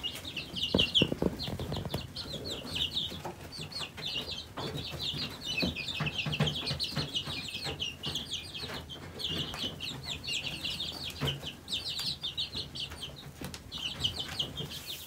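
Silkie chickens cluck and chirp steadily at close range, with soft rustling, scratching and the odd flutter of wings in a coop and no voices.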